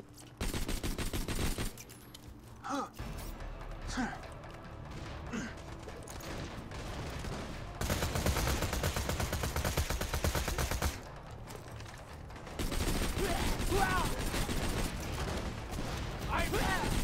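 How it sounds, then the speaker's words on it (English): Gunfire in the video game Borderlands 2, shots ricocheting in repeated bursts that stop and restart, loud and close, with a voice talking at times between them. "It's fun, like, ricocheting shots like that."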